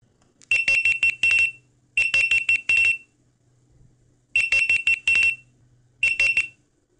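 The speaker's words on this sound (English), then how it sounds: "And finally, let's try the default alarm ringtone." Loud electronic alarm beeps in rapid bursts of four or five, repeating in groups separated by short pauses, piercing and close.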